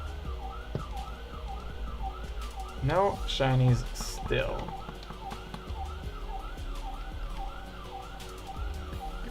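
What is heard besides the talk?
sirens blaring outside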